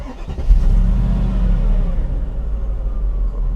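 A Mercedes-Benz SLR McLaren supercar engine fires up with a loud, deep rumble that swells after the first half second, then settles into a steady, close idle.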